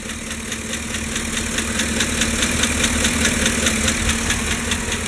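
Steady idle of a 5.3 Chevy Silverado V8 heard up close, with a rapid, even lifter tick clattering over the engine hum throughout.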